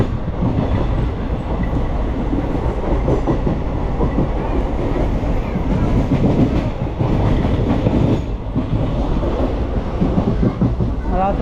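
A train on the Chennai to Pondicherry route rolls on with a loud, continuous rumble and rhythmic wheel clatter over the rails. It is close and dense throughout, with a faint squeal near the end.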